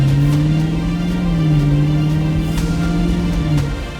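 A 1995 Land Rover Defender 110 with a stainless steel exhaust and single left-side outlet gives a steady, loud, low engine growl, holding a sustained droning tone for several seconds with no talking.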